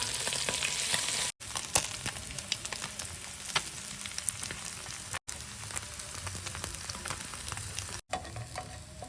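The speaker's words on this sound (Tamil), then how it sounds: "1 நிமிஷம் கழித்து இந்த மீனத்தை வந்து பரட்டிக்கிட்டு இருக்கோம்." Fish fry in hot oil in a home kitchen with a continuous crackling sizzle, steady and close, interrupted by a few brief breaks as the pieces are turned over.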